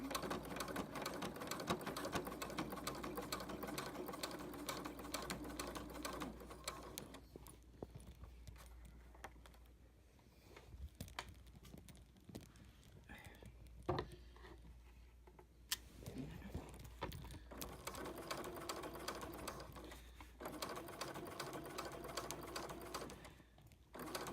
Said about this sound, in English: so you sew, you backstitch all the way to the edge